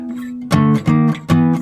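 Blues guitar power chords walk from D up to E in three firm strummed hits, loud and close.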